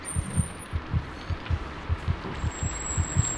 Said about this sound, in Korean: 이 심장 소리는 뭐지?